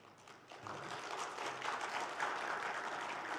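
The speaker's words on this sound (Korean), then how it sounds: "우리 한번 박수로 격려해 주시기를 바랍니다." A church congregation applauds during a Sunday worship service, a steady wash of many hands clapping that starts softly and swells after the first half second, then holds moderately loud throughout.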